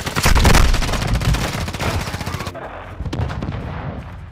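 Rapid automatic gunfire in a multiplayer shooter video game, loud and close, a dense burst of overlapping shots that thins into a slower rattle of separate cracks, with a brief voice under it.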